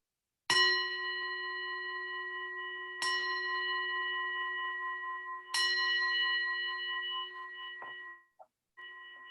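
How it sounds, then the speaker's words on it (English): A resonant meditation bell is struck three times at even intervals during a calm mindfulness exercise, each clear ringing tone sustaining and slowly fading, close and alone. "I'm going to ring the bell one more time. Actually, I'm going to ring it 3 times."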